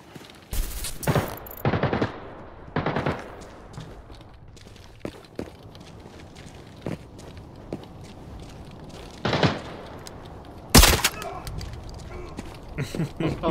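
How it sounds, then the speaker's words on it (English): Gunfire from a weapon in the shooter Arena Breakout Infinite, heard as several loud, sharp single shots and short bursts spread across the stretch, with footsteps and movement noise between them and occasional speech. "I love the sound of this weapon"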